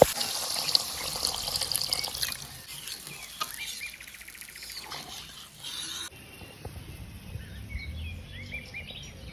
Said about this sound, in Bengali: এখন আমরা পরিমাণ মতো জল দিয়ে দিব।